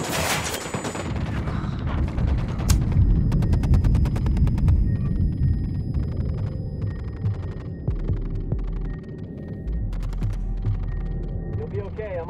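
Grenade blast and gunfire in Ghost Recon Wildlands: a heavy thump followed by rapid bursts of shots, with a deep throbbing low hum running underneath and a voice speaking briefly in the background.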